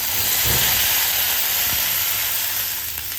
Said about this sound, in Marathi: आता हे सगळं छान परतलं आहे पाणी घालूया आपण यामध्ये